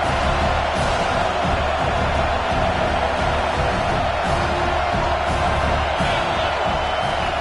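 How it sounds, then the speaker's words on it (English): Large stadium crowd roaring steadily to fire up the defense near the goal line in a Madden football video game, a dense continuous wall of cheering with no talk over it. "this big crowd doing everything possible to inspire this defense down here near the goal line"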